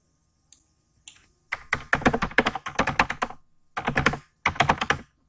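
Someone types on a computer keyboard in short bursts of rapid, close key clicks separated by brief pauses, with no talking.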